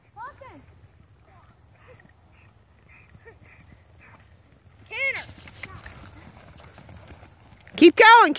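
A horse canters in a riding arena, its hoofbeats a soft rhythmic thudding through most of the clip, while a person calls out instructions, with louder voices and sounds near the end.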